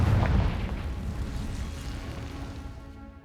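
A Confringo explosive spell blast from Hogwarts Legacy: one heavy low boom at the start, then a long rumbling decay that fades out over a few seconds, with no voices.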